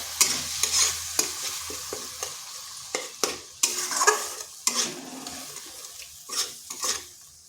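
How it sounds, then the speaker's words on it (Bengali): Spice paste with tomato and a splash of water worked around a pan for an aloo dum, repeated sharp scrapes and clacks of the spoon over a light sizzle, close and without voices. "এরপরে টমেটোর সাথে ভালো করে কষিয়ে নিতে হবে। এখানে সামান্য একটু জল দিচ্ছি যাতে মশলাটা না পুড়ে যায়।"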